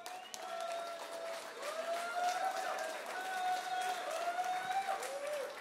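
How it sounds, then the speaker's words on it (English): Audience at a software launch event in Amsterdam applauds to welcome a speaker on stage, a soft continuous patter of clapping under a bright whistling tone and some crowd murmur. "Applause, please."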